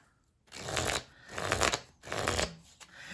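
Tarot cards riffled and shuffled in three distinct bursts of papery flutter, each lasting under a second with short pauses between, close and fairly quiet, no talking.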